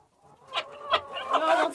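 A few short, soft clucks from chickens close by, rising into a longer run of clucking toward the end.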